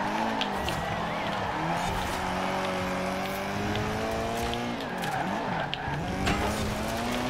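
Car tyres squeal and skid continuously while drifting in the Forza Horizon 4 racing game, with engine tone rising and falling underneath, steady and close.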